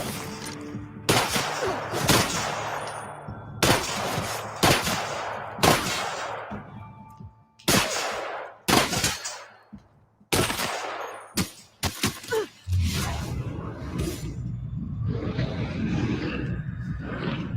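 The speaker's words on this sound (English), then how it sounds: "fire!" Gunfire crackles through a firefight in The Outer Worlds, the town of Edgewater: a dozen or so sharp, loud shots and short bursts in irregular rhythm, each followed by brief decay, then a rougher sustained clatter at the close.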